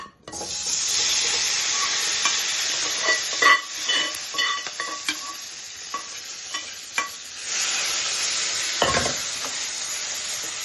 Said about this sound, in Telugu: ఆయిల్ వేడెక్కింది ఇప్పుడు చికెన్ అందులో వేద్దాం